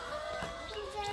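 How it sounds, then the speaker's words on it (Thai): Hens clucking inside a chicken coop during egg collection, a brief burst of fairly soft, close calls with no talking. "ไก่มันเรียกใหญ่เลย"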